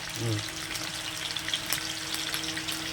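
Spice paste of ginger and other ground spices hits hot oil after a cumin tempering, a soft steady sizzle with a brief louder burst at the start, with faint stirring over it.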